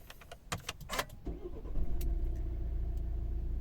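A 2012 Volvo V60 with a 1.6 diesel engine cranks and starts after a few clicks and a brief whir, then settles into a steady, close diesel idle rumble.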